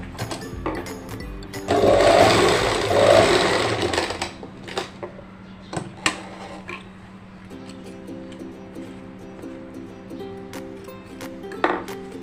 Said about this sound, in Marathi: इथे देखील मी एक शिलाई टाकून घेणार आहे